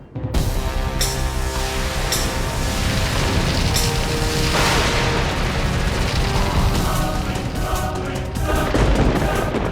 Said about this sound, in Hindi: भयंकर परियों, आग के गोलों से आक्रमण करो।